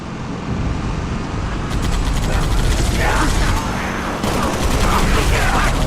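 Gunfire in the video game Halo: Reach comes in rapid bursts mixed with mechanical clatter, loud and continuous over a dense game soundscape, with no voices.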